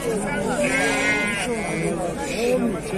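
Goats and sheep bleat loudly at a busy livestock market in Füzuli, wavering cries overlapping with one another amid a constant babble of people talking.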